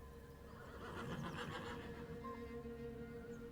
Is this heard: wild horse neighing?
yes